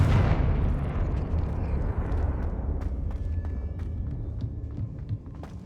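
Confringo blasting spell explosion in Hogwarts Legacy, a loud broadband boom at the start with a rumbling tail that decays over several seconds, followed by scattered small crackles and pops.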